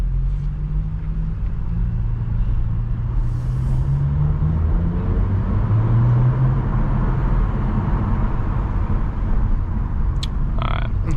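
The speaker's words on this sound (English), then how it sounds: "coming from a 4-cylinder to a 6-cylinder turbo, the added noise, even though it's a stock exhaust, is nice" A stock-exhaust Audi S4 six-cylinder turbo engine drones steadily from inside the cabin while cruising, its low hum shifting gently in pitch under constant road rumble, with no talking.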